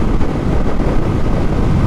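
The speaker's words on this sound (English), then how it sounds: "that wind is icy, I can tell you" Loud wind buffets the microphone while riding a Honda Rebel motorcycle, a dense continuous rushing roar with no speech heard.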